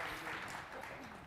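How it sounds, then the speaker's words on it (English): Audience applause at a broadband infrastructure and Black tech conference, a faint, steady wash of clapping heard from a distance throughout. "Clap that up."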